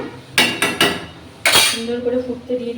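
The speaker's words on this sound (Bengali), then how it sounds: "এই ঢাকনাটা আরেকবার আমি ওর মধ্যে বসাচ্ছি" A metal pot lid set down on a pan while prawns cook, giving a few sharp clanks and clinks up close, followed by a brief tonal ring or hum.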